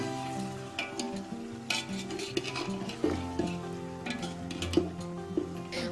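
Mutton coated in regular spices stirred and fried in a pan, with a steady sizzle broken by repeated scraping and clinks of a spoon against the metal, close and continuous without any talk.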